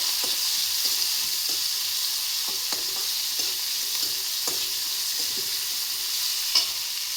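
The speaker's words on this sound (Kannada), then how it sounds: "ಸೊ ಈರುಳ್ಳಿ ಚೆನ್ನಾಗಿ ಒಂದ್ಸಲ ಫ್ರೈ ಆಗೋವರೆಗೂ ಮಿಕ್ಸ್ ಮಾಡ್ಕೊಳ್ಳಿ." Onions frying in a pan for bhindi palya, a loud, continuous hissing sizzle with soft, regular stirring taps from a spatula throughout.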